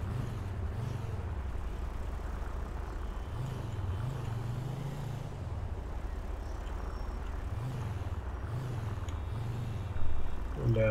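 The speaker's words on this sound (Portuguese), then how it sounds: "Tem um carro aqui atrás acelerando" A car in GTA V accelerates close by, its engine rising and falling in several steady surges, with a sharper, louder burst near the end.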